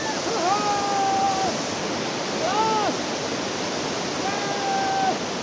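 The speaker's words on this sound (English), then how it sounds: "So this is how I managed to cross this water stream." A mountain stream on the route from Chandratal to Chacha Chachi Dhaba, rushing in a steady broadband wash that lasts throughout. A voice speaks faintly over the flow several times.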